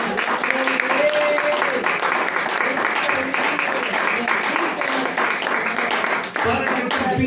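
Church congregation clapping as an offering of praise, dense steady applause filling the room for several seconds, with voices mixed in underneath.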